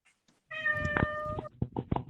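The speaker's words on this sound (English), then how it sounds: "Oh, who's got a kitty?" A house cat meows close by in a drawn-out tonal cry, followed by a few shorter chirping meows.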